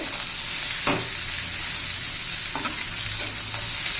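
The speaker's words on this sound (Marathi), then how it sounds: "आता भोपळा घालून घेऊया पण चांगलं तेलात परतून घेऊ कांद्याबरोबर" Bottle gourd sautéing with onion in oil: a dense, steady sizzle throughout, broken by a few brief stirring scrapes, close and fairly loud with no talk.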